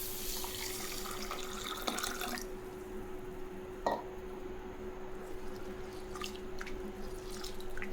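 Water runs and drips steadily as rice is washed in a container, with a faint hum beneath and occasional small splashes and clinks.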